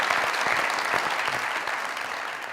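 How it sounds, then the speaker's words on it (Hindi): Studio audience applause on a comedy talk show, a thick burst of clapping that starts strong and slowly eases off over a couple of seconds. "तालियां यार"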